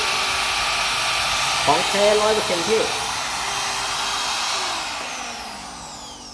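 Electric wood trimmer router runs with a steady, smooth high-pitched whine, close and continuous, while someone briefly talks over it.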